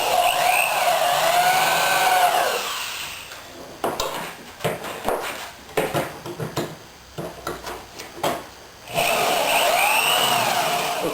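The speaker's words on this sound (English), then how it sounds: "now that I know my positions, it's time to get out the drill" Power drill fitted with a tapered countersinking bit boring holes while rails are installed, with several short whirring bursts that start and stop between quieter pauses, close and moderately loud.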